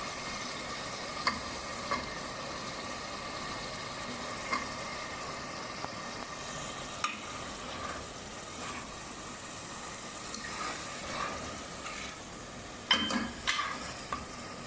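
Chopped bottle gourd stirred in a pan with red chilies, salt, turmeric, mustard seeds and nigella seeds, giving a low steady sizzle with soft intermittent stirring scrapes, no talking.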